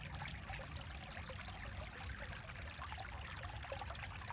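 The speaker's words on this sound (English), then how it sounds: "enjoy the sound of the running water" Running water flows steadily through snowy winter woods on a Christmas walk, a soft continuous trickle and gurgle filling the whole stretch with no voices.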